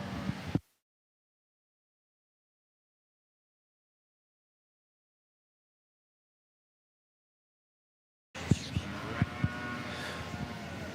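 Cattle mooing in a show ring at a San Antonio breeding heifer show, loud bellowing at the start, then a long silence, then renewed lowing with crowd noise behind.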